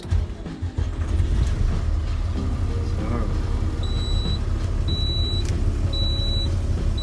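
A truck arriving and idling nearby at a van campsite, its low engine rumble steady throughout, with a few faint electronic beeps overhead.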